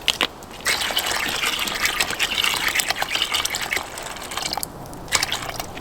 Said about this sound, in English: I am using water right out of a plastic bottle.